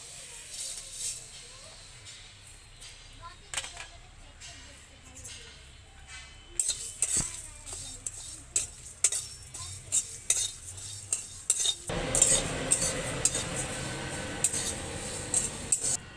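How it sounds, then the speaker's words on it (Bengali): Whole spices are dry-roasted and stirred in a dry kadai for an amla pickle, giving intermittent scraping and clinking of a spoon against the pan that grows busier and louder in the later part. "এবারে শুকনো কড়াই গোটা মশলাগুলো হালকা করে ভেজে নেব"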